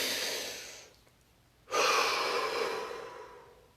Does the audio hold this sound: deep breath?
yes